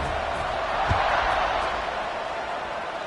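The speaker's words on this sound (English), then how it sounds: "this crowd is buzzing after that last score" Steady stadium crowd roar from a college football video game, Kennesaw State at WKU, a dense continuous wash of noise throughout with a brief thump near the start, under faint commentary.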